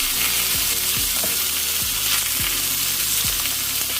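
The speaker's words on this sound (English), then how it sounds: "Now that I got my pan preheated, I'm going to put the one side down to get a good sear on it." Food searing in a preheated pan for a Valentine's dinner, seasoned with salt, pepper and rosemary, gives a loud, steady, close sizzle that runs without a break for the whole clip.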